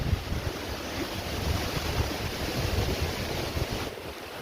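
Strong wind roaring across an open hilltop on a trek in Dindigul, a continuous loud buffeting rush with microphone rumble, steady throughout and no voices.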